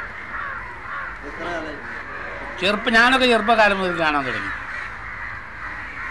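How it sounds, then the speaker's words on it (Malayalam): Crows gather to roost at dusk in Cheruvadi, Kerala, cawing repeatedly in the background, with a louder flurry of harsh caws midway, while someone talks over them. "മഗ്‌രിബാങ്കിന് മുമ്പ് കൂടണയുന്ന കാക്കകളാണ് ഇവ"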